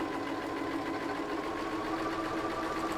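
A sewing machine runs steadily at an even pace while stitching a quarter-inch quilt block seam, giving a continuous close mechanical whir with no break and no speech.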